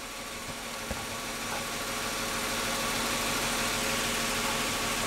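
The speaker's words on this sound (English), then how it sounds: "Now the car appears to start fine." A car engine idles steadily, the one with a battery built in October 2011, a low, even hum that holds near and constant throughout with no voices over it.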